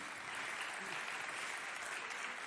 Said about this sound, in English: J'ai pas encore commencé à chanter, déjà vous applaudissez